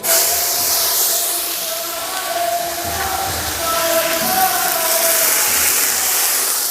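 Cumin, dried red chillies, panch phoron and ginger tempering in hot oil for ISKCON-style dal, a loud continuous hissing sizzle that stays steady throughout, close up and without any voices.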